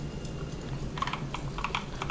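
Fingers tap quickly on a computer keyboard, close and fairly quiet, a brisk irregular run of clicky keystrokes over faint room hum.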